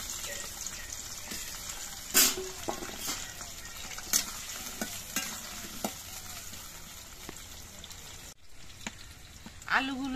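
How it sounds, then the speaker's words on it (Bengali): Two diced potatoes frying in hot mustard oil, a continuous soft sizzle broken by occasional clacks and scrapes of a spatula stirring the pan, heard up close. "এই আলুগুলো আমি ভেজে নিচ্ছি।"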